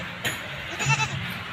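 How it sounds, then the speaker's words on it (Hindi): A Rajanpuri-breed male goat at a Karachi goat market lets out one short, close bleat over faint background noise. "ये एक बकरा है"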